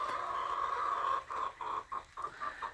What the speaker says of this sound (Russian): Здесь у меня другие курочки. Вот такие вот курочки.